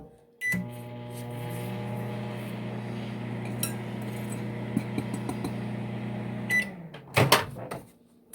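A microwave oven hums steadily for about six seconds while melting refrigerated butter, its low drone starting abruptly and ending with a click, followed by a few clinks and a door opening.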